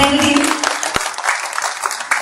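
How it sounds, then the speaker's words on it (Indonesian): A room of people claps for Pak Burhanuddin at an RRI Palembang office handover ceremony, a short dense burst of applause with a voice briefly heard over it. "Saya boleh minta tepuk tangan untuk Pak Burhanuddin"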